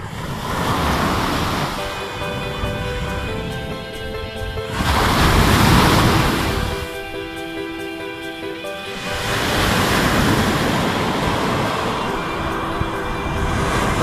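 Ocean waves break on Playa La Manzanilla beach in Michoacán, Mexico, each surge swelling into a loud wash and receding in a slow rhythm, with wind rumbling against the microphone throughout.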